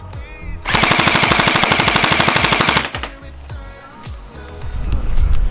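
LeHui AUG gel blaster firing on full auto: a rapid, evenly spaced burst of sharp mechanical clacks lasting about two seconds, loud and close, followed by quieter handling noise.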